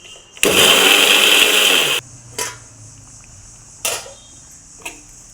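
A mixer grinder whirs loudly for about a second and a half while crushing garlic, then stops, followed by a few light clinks and taps.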